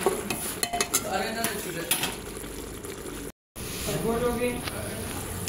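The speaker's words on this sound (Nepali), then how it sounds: "अब म यसलाई सबैलाई मिक्स गर्नेछु, मजाले पकाउनेछु" Masala with chili powder cooks in a pan while a utensil stirs and scrapes it, giving soft clinks and a low sizzle, with a voice talking over it and a brief dropout in the middle.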